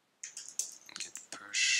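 Keystrokes tapped on a computer keyboard by a developer pushing code, a quick irregular run of close, crisp clicks ending in a brief louder burst.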